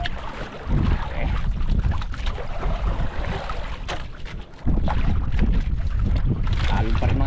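Sea waves slosh and wind buffets around a small fishing boat out on the open water, a loud continuous roar that surges sharply stronger midway, with faint voices underneath.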